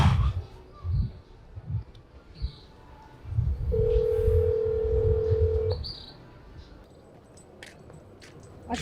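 Telephone tones in a Jamaican movie: a steady dial tone holds for about two seconds after a few muffled voices, followed by short, sharp dialing beeps near the end.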